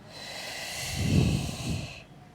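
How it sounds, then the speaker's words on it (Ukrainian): Breath pushed out and drawn back in through the nose as part of a flat-belly breathing exercise, one soft, airy exhale-inhale cycle heard up close with no talking. "видих, вдих. І ще три рази. Видих. Вдих через ніс."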